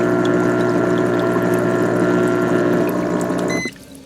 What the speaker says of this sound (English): and it will turn the bubbles on.